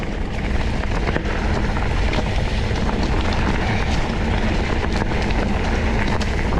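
A mountain bike rolling over loose stones on a trail in the Célé valley, Lot, a loud continuous rumbling crunch with wind and rattle throughout.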